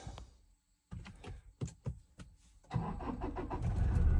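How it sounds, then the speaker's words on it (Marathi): Toyota car engine cranking and starting after sitting parked for six days: brief starter clicks and bursts, then the engine catches and settles into a steady, building idle up close. "सो आता बघूया आपण गाडी स्टार्ट कशी होते ते तुम्हाला दाखवतो"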